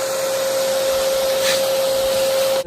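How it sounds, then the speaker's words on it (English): A vacuum cleaner runs in a loud, steady drone with a sustained whine, close by and alone, cutting off abruptly at the end. "I'll grab that vacuum real quick."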